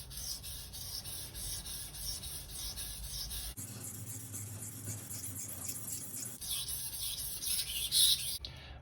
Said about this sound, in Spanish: mover el cuchillo por toda la superficie de la piedra